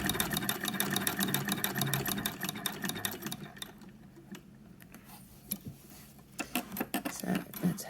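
A sewing machine fitted with a ruffler attachment stitches fabric in a quiet, rapid mechanical clatter that pauses midway and then resumes in short bursts.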